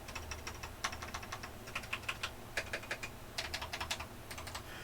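Someone types on a mechanical keyboard with plumber's-tape-modded stabilizers and cheap cherry-profile clone Epomaker keycaps, producing soft, quiet clicks and thocks in quick, uneven bursts, heard close with no voices.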